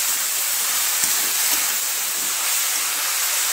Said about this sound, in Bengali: ভালো করে সমস্ত কিছু ভেজে ভেজে নেব